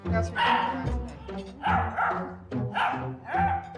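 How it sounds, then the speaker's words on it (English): Puppy barking at a breakfast table at mealtime, four bursts of loud, close yaps and yips, each a cluster of quick barks with brief gaps between them, and no voices over them. "She was just barking and barking at the breakfast table"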